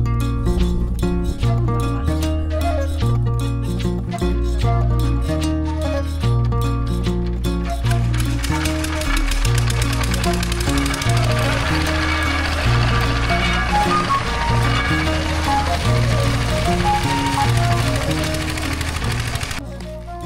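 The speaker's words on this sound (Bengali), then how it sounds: "ক্রাশার বা আখ মাড়াই করার যন্ত্রের মধ্যে দেওয়া হয়, এখান থেকে রস তৈরি করা হয়।" A sugarcane crusher used to press cane for juice when making jaggery runs loudly and continuously, with a rhythmic mechanical chugging and clatter throughout.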